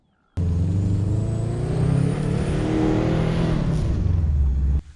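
A Subaru's turbocharged engine strains up a steep mountain road, a close, loud, continuous drone with a high turbo whine that climbs, then stops sharply.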